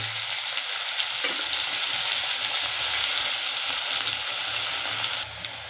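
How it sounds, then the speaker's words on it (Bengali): Onions fry in a pan with a steady, hissing sizzle that holds evenly throughout, then drops off slightly near the end. "পেঁয়াজটা সামান্য ভাজা হয়ে গেছে"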